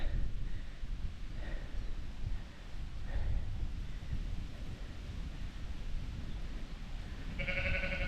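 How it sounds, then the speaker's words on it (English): Faint sheep bleats drift in from a distance over steady wind and outdoor rumble, with a clearer, closer bleat near the end. "Oh, noisy. They are smelly sheep."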